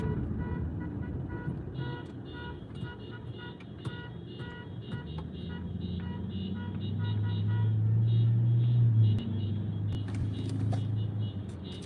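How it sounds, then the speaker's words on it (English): Cavalcade of some 20 to 30 cars rolling past on a street, a steady road rumble swelling toward the middle, with a sustained horn blast and scattered toots mixed in; no talk. "Probably 20, 30 cars in this cavalcade here."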